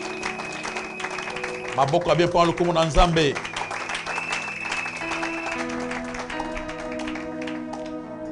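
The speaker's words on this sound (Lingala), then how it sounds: "Acclamer pour la gloire de notre Dieu et de notre Seigneur." A church congregation bursts into brief, dense applause for about a second and a half, under a preacher's amplified voice that continues alone afterward.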